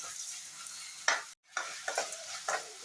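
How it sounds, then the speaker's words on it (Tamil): Vallarai spinach leaves sautéing in a pan with a little salt, a close, continuous sizzle broken by spatula stirs and scrapes, with one brief silent gap. "இது நல்லா நமக்கு வதங்கட்டும்."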